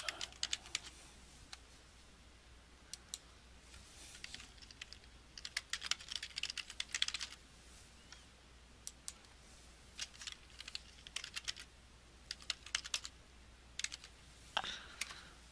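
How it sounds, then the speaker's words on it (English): Typing on a computer keyboard while entering a scale name for a grading rubric, with quiet irregular bursts of close key clicks separated by short pauses. "You can just type or paste a scale name."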